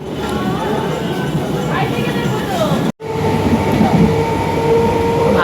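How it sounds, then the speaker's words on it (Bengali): A train slowly pulling into a station, with a steady rumble of wheels on rails and faint squeals, close and loud, while people talk nearby. "আসছে আমাদের ট্রেন, ধীর গতিতে আসছে।"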